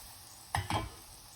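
Cashew nuts frying in a pan of oil for Ven Pongal, two short sizzling bursts close together against a quiet background.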